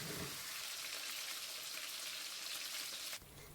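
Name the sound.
chicken wings pan-frying over medium-low heat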